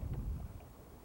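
Wind buffets the microphone while a canoe is paddled, a low rumbling gust that swells briefly and then eases to a steady, softer rush.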